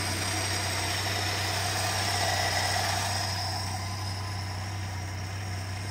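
A 1974 Dodge Dart engine idles while warming up, a steady low rumble with an even, unbroken drone and no voices.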